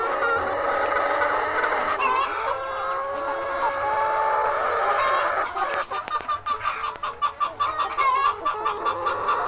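Laying hens clucking on a small poultry farm, a dense chorus of overlapping clucks and calls with a rooster-like crow, continuous and fairly close, becoming choppier toward the end.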